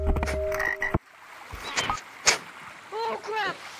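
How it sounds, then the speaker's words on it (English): A frog in the Gorilla Tag video game gives a few short, loud croaks near the end after scattered clicks and a brief game sound, close and clear, with a player speaking around it. "Oh crap, it's a frog!"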